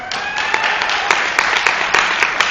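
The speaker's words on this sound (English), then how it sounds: "Please hold your applause till the end of this list." Crowd applause, a dense steady patter of many hands clapping, fairly loud and sustained without pause.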